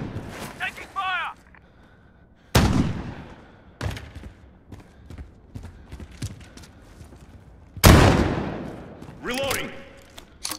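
Gunfire in Call of Duty Modern Warfare 2v2 alpha gameplay: sharp loud bursts of shots at irregular intervals, with in-game voices calling out between them.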